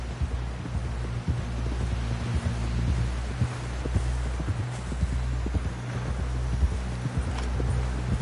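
Horse hooves pound at a steady gallop in a Western open-world video game, a continuous rhythmic clip-clop close up over a low rumbling background, with no voices.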